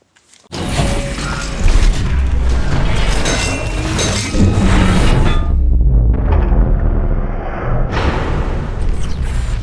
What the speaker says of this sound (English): So we're going to go ahead and take off these bolts.